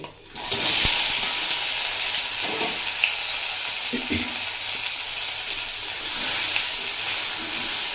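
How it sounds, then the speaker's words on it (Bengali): Boiled potatoes with black cumin seeds sizzle loudly in a hot pan, a steady crackling hiss with a few soft stirring knocks, no voices. "দিয়ে কিছুক্ষণ ভেজে নেব"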